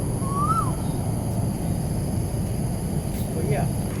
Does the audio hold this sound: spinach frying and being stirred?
no